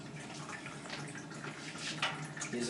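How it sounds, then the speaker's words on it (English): A thin stream of cooling water from a reflux still runs and splashes steadily, a faint, close, continuous trickle. "Just want to show you the water stream."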